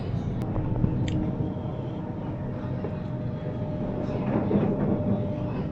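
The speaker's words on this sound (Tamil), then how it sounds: "இன்னொரு ட்ரெயின் வருது பாருங்க." A train in Australia rumbles past at a moderate distance, a steady low roar with rail clatter that swells slightly toward the end.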